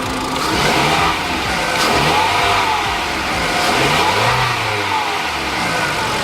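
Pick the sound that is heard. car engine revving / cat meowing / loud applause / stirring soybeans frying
car engine revving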